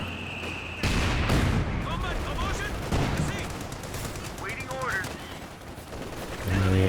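Company of Heroes 2 battle in a 2v2 match: rapid rifle and machine-gun fire crackles with falling artillery shells, dense and continuous, under a commentator's voice.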